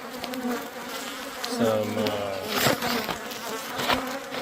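A dense buzzing of many honeybees, including nurse bees being shaken into a container, fills the air close by, steady and continuous, with brief thumps and a few spoken words mixed in.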